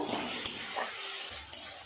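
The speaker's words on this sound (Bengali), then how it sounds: "আর একটু নেড়ে নেব আদা রসুনের গন্ধটা চলে যাওয়া পর্যন্ত" Ginger-garlic paste frying with onion and tomato in a pan, stirred with a utensil: soft sizzling under a few sharp scrapes and taps of the spoon against the metal, close and moderately loud with no talk.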